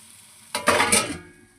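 Spice masala for crab curry sizzles and sputters in a hot pan in one loud burst of frying and stirring that rises suddenly, then fades away, with no talk.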